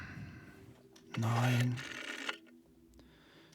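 Rusty old rotary phone dial grinds harshly for about a second in a video game, a loud rasping mechanical burst with a rattling tail, while a person talks before and after it.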